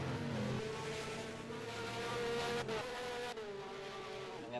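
Race car, likely a Porsche 911 class car, passing the start-finish line during a Hoosier Tire GP GTI feature race, a steady, distant engine drone that holds at an even level throughout.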